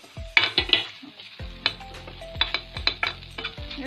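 Besan-coated bhindi bhaji sizzles in a pan while a spatula stirs it, with sharp clinks and scrapes over a soft, steady frying hiss, close and without speech.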